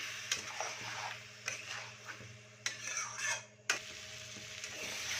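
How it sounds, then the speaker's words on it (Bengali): A spoon stirs tomato paste into sizzling masala in a pan for Kolkata street food, with soft scraping and clinks over a low steady frying hiss, no talking. "দিয়ে ভালো করে মিক্স করবো যত সময় পর্যন্ত না টমেটোর কাঁচা গন্ধটা বেরিয়ে যায়"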